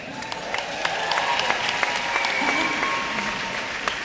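An audience at a Web Summit tech conference applauds steadily throughout, a dense wash of claps with a few sharper individual claps standing out, fairly close and even in loudness.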